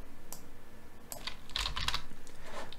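Computer keys clatter in short bursts of close typing, irregular clicks against a steady low electrical hum.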